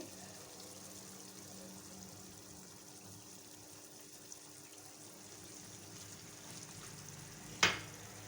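Yogurt goes into chicken frying in a pan, with a quiet, steady sizzle and one short clink near the end.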